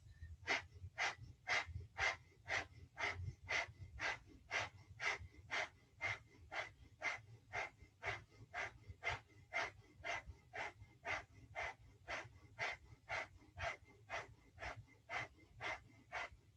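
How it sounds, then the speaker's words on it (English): Breath of fire in a yoga vinyasa flow: about thirty quick, forceful nasal exhales in a steady, even rhythm, close and clear with no talking over them. "Begin breath of fire or long deep breath."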